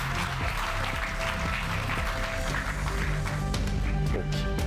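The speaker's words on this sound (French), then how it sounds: "On peut les applaudir." Audience applause at a conference opening as guests walk on stage, sustained clapping over loud background music with a steady beat and low tones, the whole mix dense and close.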